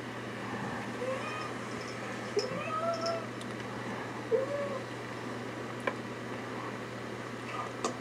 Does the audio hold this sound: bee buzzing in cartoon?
no